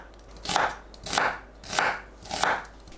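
A knife cuts an onion into 0.5 cm slices on a board, four evenly spaced crisp chops about half a second apart, close and clear with no speech.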